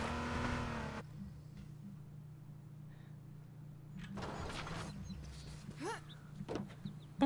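Car engine in the H1Z1 battle royale game idles and hums steadily, with a brief start-up burst at the beginning and some faint clicks and rustles later, no one talking.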